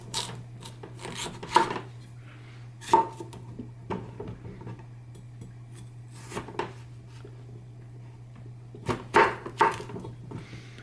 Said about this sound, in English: I'm going to cut up the potatoes so they fit in the loading tube of the food processor.